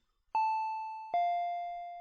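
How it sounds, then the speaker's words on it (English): Two ding-dong chimes of a doorbell ring out clearly in the Higurashi video game, each tone sustaining and slowly decaying in a quiet room with no talk. "I heard the doorbell ringing."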